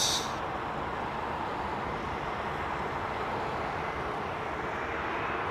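A jet aircraft departing runway 27R roars continuously, loud and broad, a steady engine rumble holding at the same level throughout with no voices.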